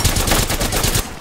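Rapid gunfire in the Apex Legends video game, a loud, dense burst of evenly spaced shots firing in quick automatic succession for about a second.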